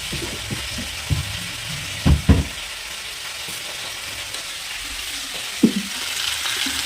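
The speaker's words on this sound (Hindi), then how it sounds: "तो टमाटर डाल दिए थे, मसाला भी डाल दिया इसमें" Tomatoes and masala sizzle in a pan for a home-cooked vegetable dish, a continuous frying hiss broken by a few clunking knocks of a stirring utensil against the pan.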